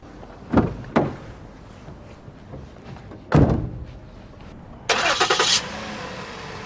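Three heavy car door thunks land a few seconds apart, followed by a short burst of the engine cranking and starting up nearby.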